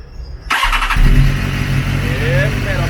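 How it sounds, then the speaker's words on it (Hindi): A BMW S1000RR superbike cold starts with a sudden starter catch, then settles into a loud, steady high idle close by, with a voice speaking over it. "चलें आपको कोल्ड स्टार्ट सुनाते हैं बाइक का."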